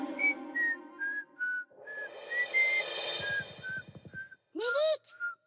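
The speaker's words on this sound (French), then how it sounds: "Je siffle un morceau." A cartoon character, Nulik from the animated series The Fixies, whistles a tune in a series of clear, bright notes, close and loud, with a short mid-passage of buzzy murmuring under it and a louder rising whistle near the end.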